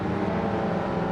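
Vintage Porsche 911 930 Turbo engine in a racing video game, droning steadily at constant speed, loud and close, with a faint whirring tone throughout.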